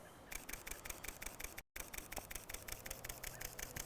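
A Panasonic Lumix S1 camera fires its shutter in burst mode, giving a fast, evenly spaced train of sharp mechanical clicks, close and steady, with one brief gap partway through.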